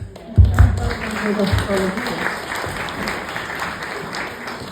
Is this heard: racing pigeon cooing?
no